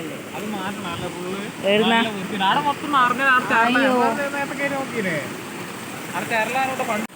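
Water flowing in a stream beside a house in Kannur, Kerala: a steady broadband rush runs throughout, largely under several people talking close to the microphone.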